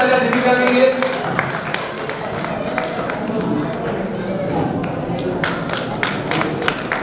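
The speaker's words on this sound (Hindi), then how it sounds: "जोरदार तालियां दीपिका के लिए" Crowd clapping at a chess tournament prize ceremony, scattered and sustained, with some sharper individual claps near the end, over a murmur of voices in a hall.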